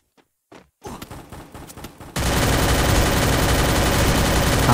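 MP5 gunfire in the mobile game Free Fire, a few faint clicks and handling thumps, then a short run of sharp shots that gives way to a loud, sustained roar of continuous firing up close.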